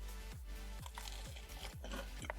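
Close, repeated crunchy bites and chewing on a Burger King spicy hand-breaded chicken sandwich come in a steady rhythm, with no talking.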